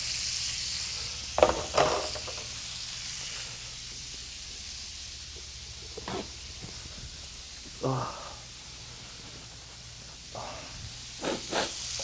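A constant hissing sizzle of steak frying in a pan, broken by a few brief clatters and bumps, with some voice-like sounds in the background.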